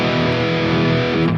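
A high-gain 5150 electric guitar amp tone from a digital amp modeler, a loud, saturated, sustained distorted chord ringing out and then cutting off near the end, with no talking.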